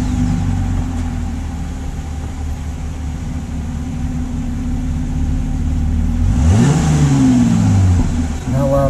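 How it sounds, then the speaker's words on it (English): A Jeep engine with factory exhaust and an AFE cold air intake running at a steady idle after a cold start, a low constant drone that swells into a rev near the end. "just so you hear what the factory exhaust and what the AFE intake sounds like"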